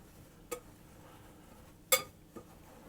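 A spoon stirs raspberry mixture in a bowl, giving three sparse, light clinks against the side over quiet background, with no voices.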